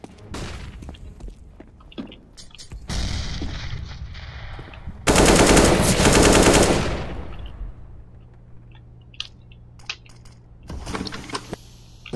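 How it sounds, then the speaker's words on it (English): Gunfire in the video game CS:GO as a flashbang is thrown: loud bursts of automatic fire, a dense blast of noise mid-clip, then scattered clicks and a final burst, no speech. "I'm throwing a flashbang!"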